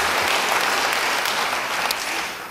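A congregation at a church service breaks into loud, dense applause, many hands clapping together in a steady roar that begins to fade toward the end.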